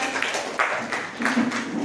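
A class of adult teacher trainees gives a presenter a round of applause, quick rhythmic clapping from a roomful of people with a murmur of voices beneath.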